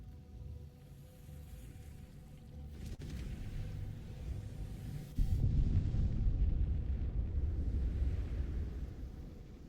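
An orb detonates in the video game Baldur's Gate 3, a deep rolling explosion whose rumble surges suddenly louder partway through and then stays heavy and sustained, with no voices.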